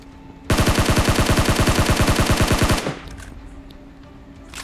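Sustained burst of automatic rifle fire in PUBG Mobile, a rapid even stream of loud close shots lasting about two seconds before cutting off into quieter game ambience.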